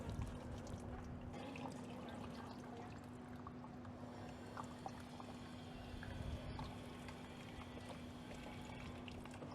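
Water runs and trickles through a wash sieve as soil is rinsed, a soft continuous pouring with a faint steady hum underneath and no talking.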